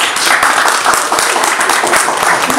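Crowd clapping at a Christmas party, a dense, continuous patter of many hands, loud and close, with a few voices faintly underneath.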